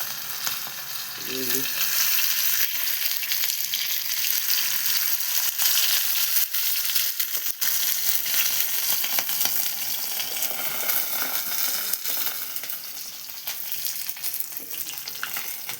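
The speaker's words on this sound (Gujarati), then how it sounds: "મચ્છીને ફ્રાય કરવી છે આપણે આજે" Kopro fish fries in a pan with a loud, dense, continuous sizzle that holds steady throughout, with faint scattered crackles and a brief murmur of a voice early on.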